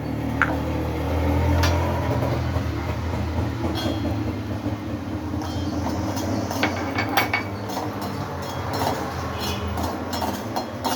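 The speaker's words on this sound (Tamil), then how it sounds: "நான் ஃபஸ்ட்டு முந்திரி பருப்பை வறுத்துக்கிறேன்" Cashew nuts roasting in salt in a pan, a constant low rumbling rattle with scattered clinks and ticks of a ladle against metal, close and steady without talk.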